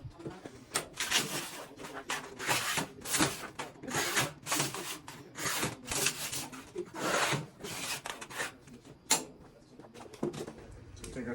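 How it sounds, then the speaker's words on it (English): A steel scribe scratches marking lines across sheet metal for an HVAC return box, with a series of close, quick scraping strokes in irregular rhythm and short pauses between them. "take our custom street scribe and mark 1 inch all the way around"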